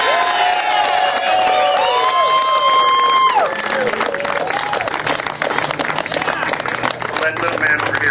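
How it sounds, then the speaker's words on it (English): Crowd at an End The Fed rally in Minneapolis cheers, whoops and applauds loudly and continuously, with voices shouting over the noise throughout. "So let's make it one big, loud round of applause for freedom."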